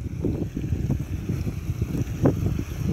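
Wind buffets the microphone in low rumbling gusts, with a faint steady hiss behind it and no talking.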